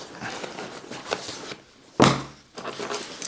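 Metal keys jangle against the key hook inside a SUISSEWIN travel laptop backpack, a bright clinking burst midway that briefly rises above a steady rustle of handling, with fainter jingling before and after.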